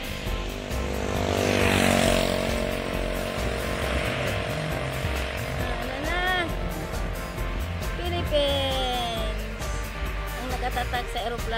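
A Philippine Airlines airplane at an airport gives off a steady, loud engine drone with propeller-like tonal whine, rising and falling in pitch, while people talk and exclaim nearby throughout.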